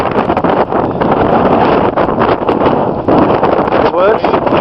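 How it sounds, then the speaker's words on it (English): Strong wind buffets the microphone outdoors, a steady broadband roar with gusty swells lasting throughout, loud and close, with no clear voices over it. "It's really windy, by the way, you can probably hear that."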